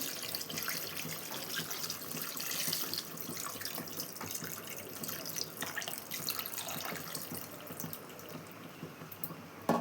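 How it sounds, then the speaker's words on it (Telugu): Liquid tamarind juice pours into a pot of fish curry with okra, a steady splashing, trickling stream that runs continuously at close range and ends with a brief clatter. "చింతపండు పులుసు కూడా కొంచెం పోసేసుకుందామండి"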